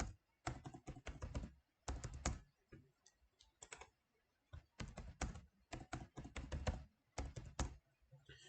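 Someone types a password on a computer keyboard while logging in during a domain controller setup on an Azure virtual machine, the close, crisp key clicks coming in quick bursts separated by short pauses, with no talking.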